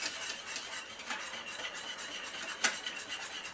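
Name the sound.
stirring flour into potato salad dressing with a teaspoon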